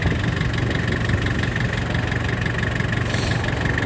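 A Mitsubishi Kumiai MT-2501D tractor diesel engine, not yet fully warmed up, runs close by with a loud, steady knocking idle and a slight rise in revs near the end.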